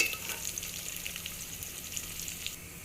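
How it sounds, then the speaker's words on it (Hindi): Onions frying until brown make a soft, steady sizzle with light crackles, heard up close and fairly quiet. No voices are present. "प्याज साढ़े लगभग काफ़ी हद तक ब्राउन हो चुके हैं"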